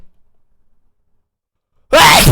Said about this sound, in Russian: Сейчас чихну.